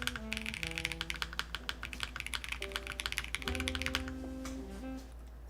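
Rapid typing on a QK65 Mk3 mechanical keyboard fitted with foam, a steady run of subdued, muted key clacks with no voices, close and fairly quiet over a faint steady hum.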